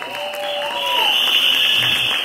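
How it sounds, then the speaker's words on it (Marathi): Audience applause at a Marathi film trailer launch event, a steady wash of clapping that swells and holds through the clip, with a faint tonal sweep early on and no talk. "तर जोरदार टाळ्या आपल्या टॉपच्या किंग."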